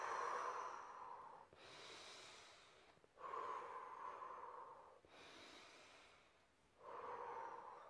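Slow, deep breaths during a singing-lesson warm-up, close and clear: long airy inhales alternate with exhales in a steady rhythm of about four breaths, with brief pauses between them.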